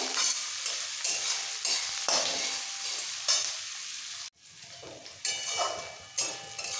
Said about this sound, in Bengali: পেঁয়াজ হালকা ভাজা হয়ে গেছে